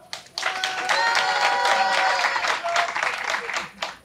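Theatre audience at an improvisation show applauding as a vote for one performer: a dense burst of clapping and cheering starts abruptly, holds steady for about three seconds, then fades into scattered claps, with faint vocal cries mixed in.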